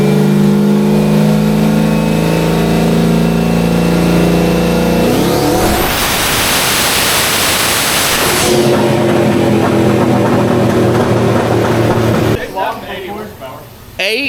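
A turbocharged LS V8 in a Mustang on a dyno roars through a loud full-throttle pull, the pitch climbing steadily before a burst of rushing noise as it lets off, then lower idling and rumble near the end.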